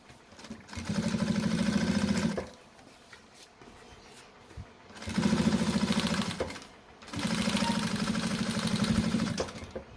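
An electric sewing machine stitches a fabric bag in three steady motorised bursts of rapid needle chatter, each lasting a couple of seconds with quiet pauses between, close and clear with no talking.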